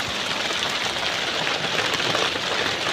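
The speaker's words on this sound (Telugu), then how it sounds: "వర్షం అయితే కురుస్తుంది చూడండి" Steady rain falling in a village, a dense even hiss of drops close around the microphone with no voices, continuous and moderately loud.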